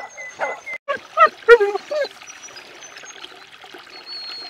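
A dog beside a garden goldfish pond gives a few short, close barks and a brief whine early on, followed by quieter rustling and a faint trickle of water.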